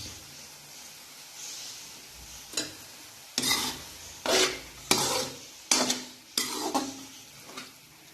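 Carrot halwa roasting in a pan, stirred in a series of loud, rhythmic scraping strokes that grow more frequent after a quiet start with a faint sizzle beneath.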